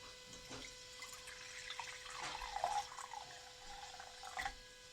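A freshly brewed homemade drink pours from a bottle with a steady liquid trickle and splashes, plus a few brief bubbly pops. Fairly faint and close, with no talking.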